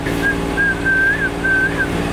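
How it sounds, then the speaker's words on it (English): A person whistles a simple wavering tune in a few sustained phrases aboard a boat, with a low steady hum in the background. "I'm also working on my whistling."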